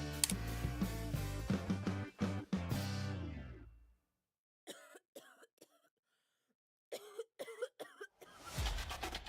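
Several harsh coughs in a burst, then a pause followed by more scattered coughing and throat clearing, close and loud.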